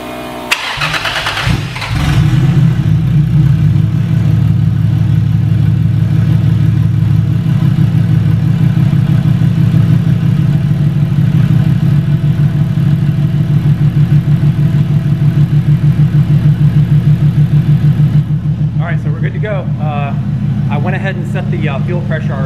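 A 1JZ engine swapped into a Foxbody Mustang cranks and catches after a brief starter whir, then idles loudly and roughly up close with a steady pulsing rhythm, with a voice speaking over it near the end.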